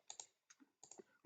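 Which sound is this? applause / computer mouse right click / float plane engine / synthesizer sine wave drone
computer mouse right click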